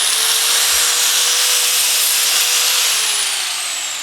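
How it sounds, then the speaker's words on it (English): An angle grinder runs steadily on an LS-swapped El Camino, giving a loud, continuous high-pitched whine and broadband hiss with no talking, easing slightly toward the end. "we just gonna put the grinder on this bad boy"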